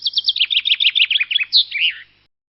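A songbird delivers a close, loud mating song of rapid descending chirps in a quick series, ending in a few longer warbled notes, then silence.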